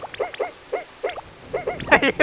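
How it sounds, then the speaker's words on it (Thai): Cartoonish dog barks from the video game Battleblock Theater come in short, rapid yips, several spaced across the moment, then a louder, harsher burst of barking at the end. "มันเสียงหมาเห่าเลย"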